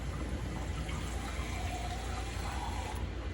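Water is poured into a container holding an egg, making a steady, moderate splashing and trickling flow that lasts several seconds without any talking.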